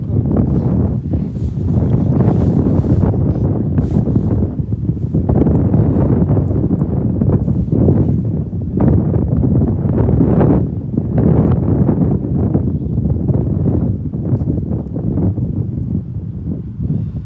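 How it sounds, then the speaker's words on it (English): Gusty wind blasts across the microphone in rumbling surges at Sheldon Country Park beside Birmingham Airport, loud and close, rising and falling throughout. "Very windy here today at the Sheldon Country Park side"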